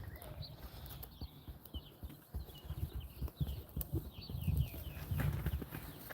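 Donkeys walk nearby with soft, irregular hoof clip-clops on the ground, fairly quiet, over light background noise.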